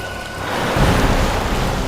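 Heavy rain pours steadily nearby, a dense broad wash of noise that swells slightly partway through with a low rumble beneath.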